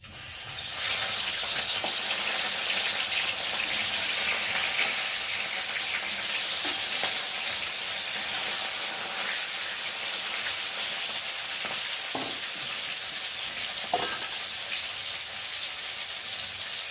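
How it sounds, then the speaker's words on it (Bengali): Fish pieces fry in hot oil for a Bangladeshi-style green banana fish curry. A constant, loud sizzling hiss fills the whole time, with a few faint knocks and clinks and no talking. "এখন আমি মাছগুলো একে একে দিয়ে ভেজে নেব"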